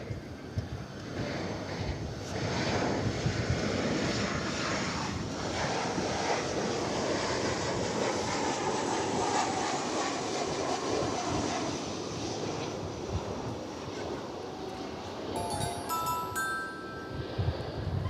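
An airliner at DFW Airport rolls toward runway 18 right, its jet engines a broad, steady roar held throughout, mixed with wind rushing across the microphone.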